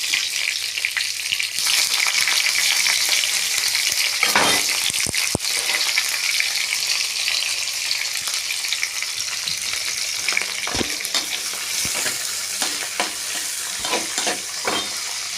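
Onions frying in hot oil in a pan for rice upma, a steady close sizzle with repeated scraping strokes of a spoon stirring throughout.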